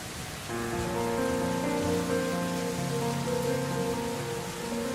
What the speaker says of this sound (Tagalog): Ang sarap panoorin ng ulan, no?